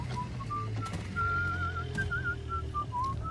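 Enemies whistling a wavering tune in the video game Bioshock, a clear melodic whistle of short and long notes over a low rumbling game background.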